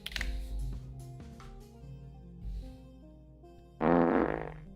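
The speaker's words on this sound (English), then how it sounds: "And we're already met with a fart." A fart sound effect plays during a Geometry Dash stream, a loud, buzzy burst near the end after tonal game music, close and abrupt.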